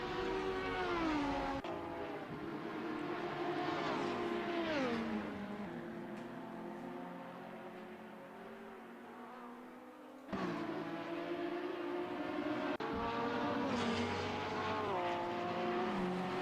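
Race cars lapping the Grobnik circuit in a sim racing game, with steady engine drone and pitch sweeps as the cars rev and shift through gears, loud and continuous, and a fresh car sweeping closer partway through.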